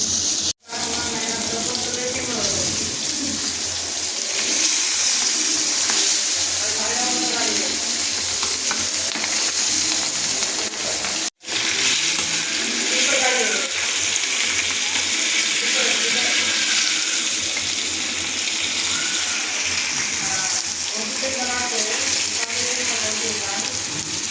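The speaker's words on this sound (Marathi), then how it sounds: "तर मी दोन्ही पण मच्छी फ्राय करून घेते आणि ही मच्छी आहे पॉपलेट" Pomfret fish frying in a pan, a constant sizzle with stirring and running water nearby, close and fairly loud, with faint talk-like sounds underneath and two brief cuts.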